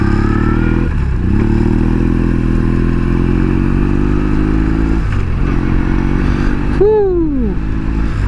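A deep, throbbing BMW R 1200 C cruiser motorcycle engine idles nearby with a steady low rumble, briefly rising in a couple of short throttle blips.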